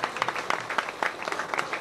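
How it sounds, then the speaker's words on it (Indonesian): An audience at a gathering with Cak Nun claps together, brisk overlapping hand claps with sharp individual accents, moderately close and short-lived. "Tepuk tangan semua dan bersama-sama untuk Indonesia."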